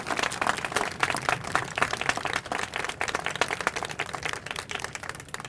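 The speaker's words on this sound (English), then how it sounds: "one more big round of applause for your commitment and your passion to making this come to fruition" An audience at a county library announcement event claps in a sustained, dense round of applause with fairly even loudness throughout, heard from within the crowd.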